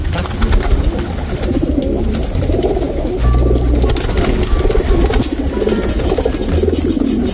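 Racing pigeons, rare-coloured breeder birds, coo and burble steadily and close by, several throaty calls overlapping in a continuous low murmur with no talking.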